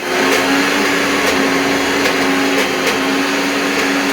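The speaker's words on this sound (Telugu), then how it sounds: "మిక్సీ రుబ్బుకుందాం" A mixer grinder whirs steadily at close range, grinding peanut chutney, with a constant motor drone, running without pause the whole time and no voices.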